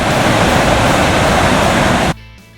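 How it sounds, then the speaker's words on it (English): Artificial waterfalls north of Mooney's Bay, where the Rideau Canal splits from the Rideau River in Ottawa, give a loud, continuous rushing roar that drops off sharply near the end, with no voices. "These artificial waterfalls are located just north of Mooney's Bay at the point where the Rideau Canal splits from the Rideau River."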